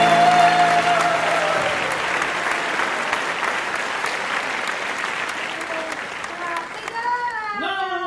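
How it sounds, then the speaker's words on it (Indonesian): A congregation at a children's church service claps in loud, sustained applause that gradually thins out, with a voice speaking at the start and more talk coming in near the end. "Kasih tepuk tangan bagi"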